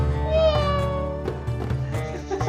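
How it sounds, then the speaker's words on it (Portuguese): Cat meowing in a drawn-out, wavering cry close by, under a layer of background music. "Adoração aos gatos."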